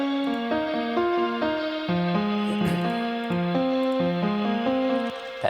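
Piano outro with an Abbey Road style effect, a gentle descending melodic line of clear sustained notes in a steady, unhurried rhythm, moderately loud and alone without voices.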